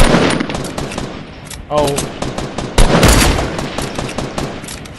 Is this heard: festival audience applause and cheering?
no